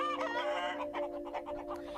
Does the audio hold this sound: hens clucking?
yes